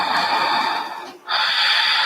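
Steady, loud breathy airflow from a deep breath during a yoga session, a long continuous exhale-like hiss that dips briefly near the middle before resuming, with no talking.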